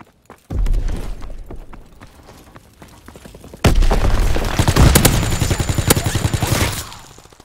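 Dense video-game gunfire from a Call of Duty WW2 team deathmatch: rapid automatic bursts and single shots build after a quiet start, then a loud blast opens a sustained, steady stretch of close rifle and machine-gun fire.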